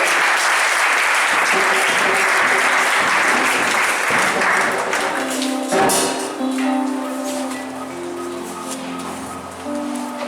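Church congregation applauding and acclaiming during a French-language worship service, a dense sustained wash of clapping and cheers that fades slightly toward the end as organ or keyboard tones rise underneath.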